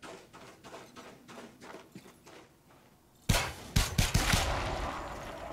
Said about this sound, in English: Just a little shotgun.